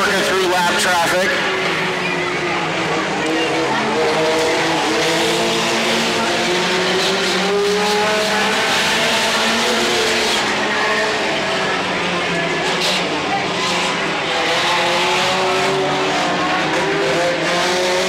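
Mini stock race cars lapping Petaluma Speedway, engines droning loudly and continuously as they pass and rise in pitch, with a race announcer talking over the roar throughout.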